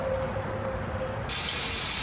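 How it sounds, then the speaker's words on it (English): Water sprays onto a K&N cabin air filter from the back, a steady hiss that kicks in loudly partway through after a quieter stretch of faint running water. "So I'm going to spray it from the back and have the crud go out."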